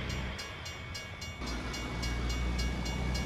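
Long freight train rolling past in American Truck Simulator in Montana, a steady rumbling drone with rhythmic clickety-clack wheel beats that grows louder partway through, with no talk.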